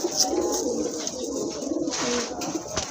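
Several pigeons, including a pair of Rajgolla pigeons at a market stall, coo in low, rolling bursts that repeat steadily and close by, with a faint background murmur.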